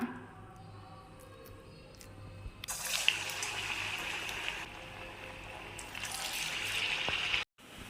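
Wheat vadai dough patted out and dropped into hot oil on a low flame, bursting into a steady, fairly loud sizzling hiss partway through that holds until it cuts off just before the end.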